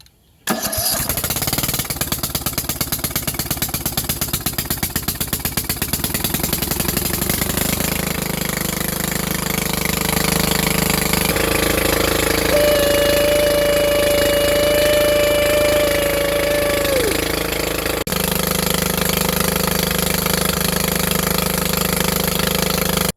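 A lawnmower engine with the choke fully on is pulled and started, then keeps running with a loud, rough, steady drone from close by and an uneven tone that wavers throughout.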